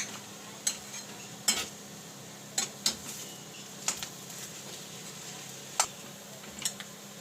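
Masala and coriander get stirred into gravy for stuffed capsicum curry, with quiet spoon clinks and scrapes against the pan coming every second or so over a low background hum. No one speaks.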